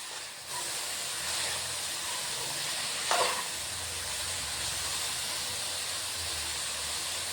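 Bitter gourd and onion frying in a pan give a steady, close, even hiss with a single brief clatter partway through and no talking.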